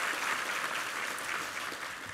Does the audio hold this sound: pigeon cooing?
no